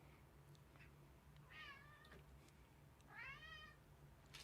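A cat gives two faint, drawn-out meows a moment apart over a low background hum.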